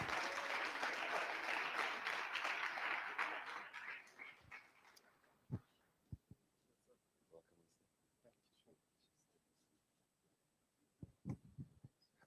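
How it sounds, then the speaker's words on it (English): An audience at a youth digital festival in Africa claps in a brief burst that dies away after about four seconds, leaving a quiet room with scattered knocks and thumps and some talk. "Can we give him a round of applause, ladies and gentlemen?"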